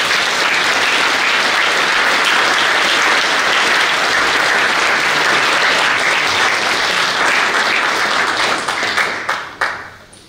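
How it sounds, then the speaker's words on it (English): An audience at a programming talk about Clojure art bursts into loud, sustained applause, a full wash of many hands clapping that carries on strongly before quickly dying away at the end. "Big round of applause, please."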